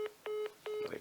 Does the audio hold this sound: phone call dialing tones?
yes